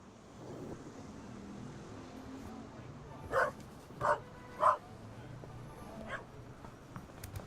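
A dog in The Raven Remastered adventure game: three sharp barks in quick succession, close and clear, over a quiet background.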